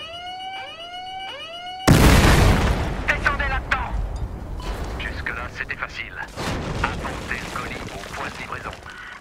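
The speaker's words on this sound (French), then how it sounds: "vous pouvez tirer autant d'explosifs que vous voulez, mettre autant de C4 que vous voulez" Explosions and C4 blasts go off in the video game Battlefield Hardline, a sudden heavy boom followed by rumbling debris and scattered crackling impacts, after an earlier rising siren-like tone.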